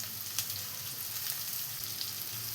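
Onions, green chilies and curry leaves fry in coconut oil, giving a steady, close sizzle with faint crackles throughout and no voices.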